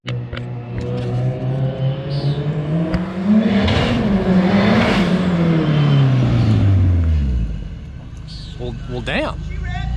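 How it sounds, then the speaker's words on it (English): A car driven without using the clutch, started in a picked gear, revs up loudly and close, climbing and then falling in pitch through a long pull. A voice talks over the engine near the end. "That's how you drive a car with no clutch right there"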